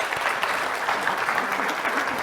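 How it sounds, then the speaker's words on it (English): An audience at an entrepreneurship conference mainstage gives steady, moderately loud applause that carries on unbroken for a couple of seconds. "So I would love it if we give these three ladies a round of applause."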